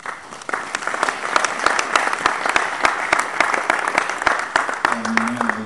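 A church congregation applauds after a scripture reading, with dense, steady clapping from many hands that fills the room for several seconds before a voice begins at the very end.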